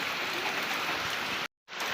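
Rain falls in a steady, even hiss, close and continuous, then stops abruptly for a moment before starting again.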